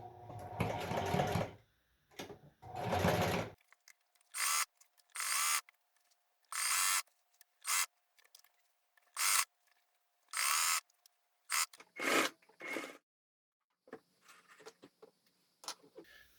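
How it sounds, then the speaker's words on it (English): Sewing machine stitching a fitted sheet being altered for a boat V-berth mattress, close whirring in two longer runs and then many short bursts with quiet gaps between them. "I suggest to start sewing from the top, working your way down."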